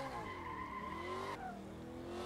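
Tires skid and squeal in a sustained, loud slide during a handbrake drift in the Assetto Corsa racing game, with a steady engine drone underneath and a brief pitch change midway.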